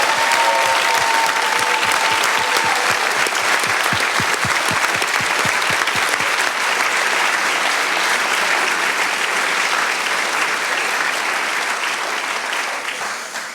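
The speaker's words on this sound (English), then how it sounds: "Okay, last big applause," A large audience at a biosensor competition bursts into sustained, dense applause that stays loud and steady throughout, with no talking over it.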